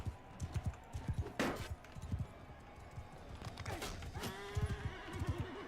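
A horse in a video game trots with rapid, rhythmic clip-clop hoofbeats and lets out a loud, wavering whinny midway, with a second neigh near the end, amid game sound effects.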